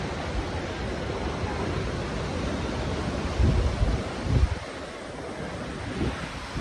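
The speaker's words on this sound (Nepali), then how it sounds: "झर्नाको पानी आइरहेछ कि त्यहाँ" Lauke Jharana waterfall in Nuwakot roars in a steady, dense wash of rushing water, loud and close, with gusts of wind buffeting the microphone and no voices.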